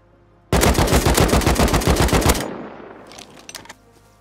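Rapid, loud semi-automatic rifle fire in Rust, a dense string of evenly spaced shots for about two seconds that cuts off into a fading echo, followed by a few faint clicks.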